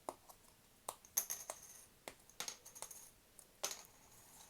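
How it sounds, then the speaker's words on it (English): Plastic game tokens from a Snack Match food game are popped out of a cardboard card, giving a quick run of sharp little clicks and snaps at irregular intervals, close and fairly quiet with no voices. "How many tokens am I popping out?"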